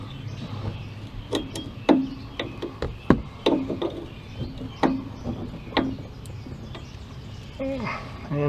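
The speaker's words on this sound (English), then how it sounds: "so I'm just going to use a regular wrench" A regular open-end wrench works a nut on a Ford F150 front shock, producing a series of sharp metallic clicks and knocks at an uneven rhythm, close by, with a voice speaking between them.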